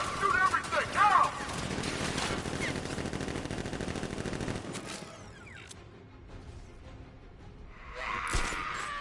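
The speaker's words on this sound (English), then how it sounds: "Guard! Open fire! Shoot everything! Now!" Guards open fire in Batman: Arkham Knight, a dense stretch of sustained automatic gunfire and clatter over the first half, then quieter mechanical sounds and a brief swell near the end.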